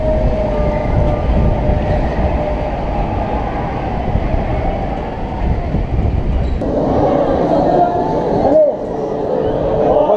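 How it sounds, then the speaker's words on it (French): Trains rumble steadily past the station of the Osiris roller coaster at Parc Astérix, a dense continuous roar with rhythmic clatter and a brief metallic clank near the end, loud and close throughout. "On voit qu'il y a des trains devant qui passent."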